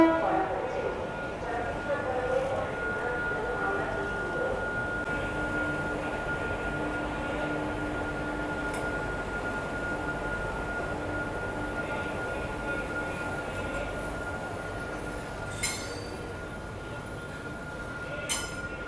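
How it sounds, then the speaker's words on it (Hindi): Train rolling along a railway track near an Indian passenger train on the Puri–Patna route, a steady broadband rumble with a sustained tonal hum, brief clanks near the end, and faint voices underneath. "अभी कौन सी ट्रेन आ रही है ये भी देख लेते हैं।"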